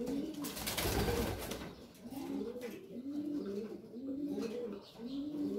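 Breeding pigeons cooing up close in a rhythmic series of soft, rolling calls that repeat every second or so, alone over a quiet background.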